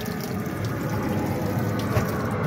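Warm tap water runs steadily into the small toilet-cabin sink of an Airbus A320 in flight, a continuous close splashing rush over the dull drone of the cabin.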